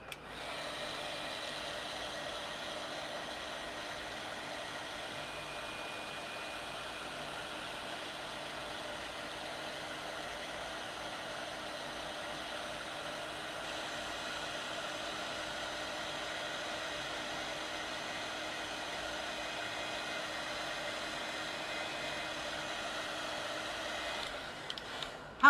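A hair dryer blows steadily on wet paint for about 25 seconds, a continuous close, even whoosh with a motor whine and no talk, cutting off at the end.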